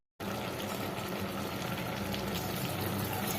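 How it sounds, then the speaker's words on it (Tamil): Rice-soaking water pours steadily into a cooking pot of fried mutton with a continuous rushing splash that starts abruptly and keeps going, close and fairly loud. "இப்போ தண்ணி சேர்த்துக்கலாம்."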